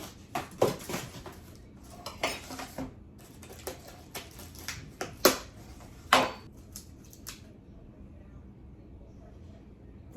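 Small nested measuring bowls clatter and clink as they are handled, a string of sharp ceramic or metal knocks at irregular intervals, close and moderately loud, with no talking.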